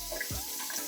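Tap water runs briefly over a small cleaned trout while it is rinsed, a soft, short splash and trickle close by.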